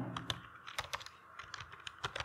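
Quick, light clicking of typing on a computer keyboard during Python coding, a soft continuous patter of keystrokes at close range with no voices.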